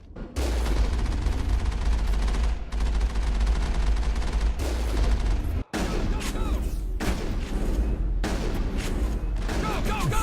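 Sustained automatic gunfire in the sci-fi shooter Mass Effect, dense and loud for nearly the whole stretch with a brief break, rapid bursts layered with impacts and game effects.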